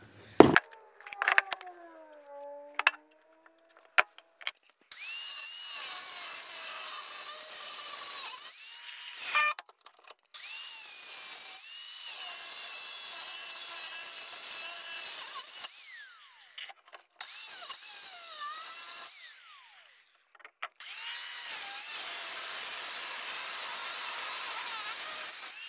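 A power tool cuts through metal on a golf cart frame, a long, steady, high-pitched grinding whine that stops and restarts several times, close and loud.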